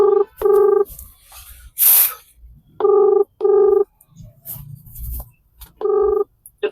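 A mobile phone call going out, with repeated pairs of electronic ringback tones in a steady on-off pattern, a short hissy burst between them and faint background noise in the gaps.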